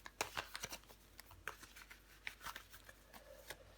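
Tarot cards handled and laid out on a table during a reading, a close, soft series of irregular papery slaps, slides and shuffles, faint and without talk.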